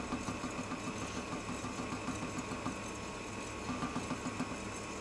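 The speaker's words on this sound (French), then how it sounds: "Je vais réduire la vitesse de mon batteur et je vais ajouter le sucre progressivement à l'intérieur." Electric hand mixer whisking egg whites as sugar is added, a steady motor whir at reduced speed with a faint rhythmic beater rattle, continuous and close, with no talking.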